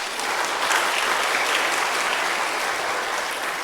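Steady, even applause from church staff at a hospital retreat service, thanking a visiting pastor; dense clapping throughout a few seconds with no voices.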